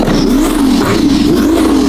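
A twin-turbo Ferrari F12 engine revs steadily and loudly on a night drive, its drone rising and falling through a continuous two-second run with no talking.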